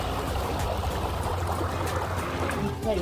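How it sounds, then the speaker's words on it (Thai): Irrigation water flows from a canal into a rice field as a steady, rushing trickle, moderately loud and unbroken throughout the short stretch. "น้ำไหลมาจากคอกเข้ามาในทุ่งนาแบบนี้เลยค่ะ"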